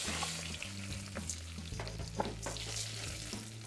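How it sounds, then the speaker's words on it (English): A bubbling mixture, likely milk and sugar for a cinnamon roll filling, sizzles and fries steadily in a hot pan while being stirred, a constant close frying hiss with soft scraping and no voices. "So turn down the heat and stir it."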